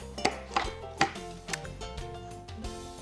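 A food processor pulses cherry almond energy bar ingredients, with about half a dozen sharp chopping bursts over a steady motor whine, rattling close by.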